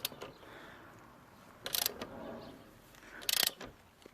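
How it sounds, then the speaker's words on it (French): A torque wrench gives two separate clicks as its set torque is reached, each a short, sharp ratcheting burst heard up close against a quiet background. "Dès que tu entends les deux clics"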